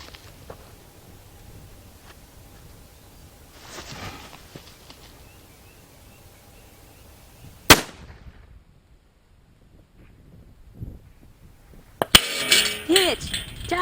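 A 7mm Rem Mag rifle fires once at a distant target, the shot landing as a sharp, loud crack around the midpoint. A second hard impact-like burst follows near the end, set against quiet outdoor ambience.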